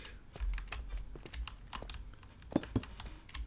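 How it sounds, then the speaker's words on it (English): Computer keyboard typing, a quick irregular patter of soft key clicks with a couple of heavier taps, close and quiet. "Sorry if you hear the keyboard."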